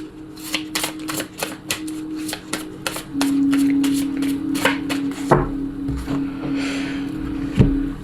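Lenormand oracle cards are cut and shuffled, giving a close run of crisp, rhythmic snaps and taps, followed by a few scattered clicks.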